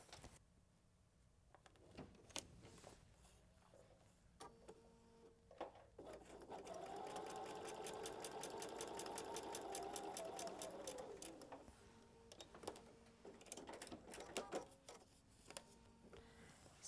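A sewing machine stitching foundation paper piecing, starting with a few handling clicks and short bursts, then a steady whirring run of rapid stitches that winds down into more clicks and brief stops.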